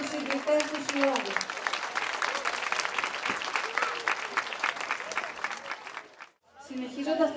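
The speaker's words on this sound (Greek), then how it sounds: "Ένα θερμό χειροκρότημα για τους ιδρυτές του Συλλόγου." Warm applause for the founders of a village cultural association at a Greek village festival, dense steady clapping filling the hall for about six seconds, dropping briefly before a second burst of clapping.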